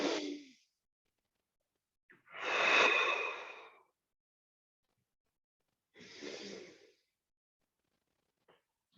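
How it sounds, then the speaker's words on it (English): Deep breathing in a guided foot and stretching exercise class: three long, close, airy breaths with near-silent pauses between them and no speech. "and you're breathing."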